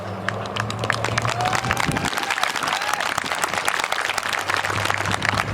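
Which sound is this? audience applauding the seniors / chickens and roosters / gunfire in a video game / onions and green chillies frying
audience applauding the seniors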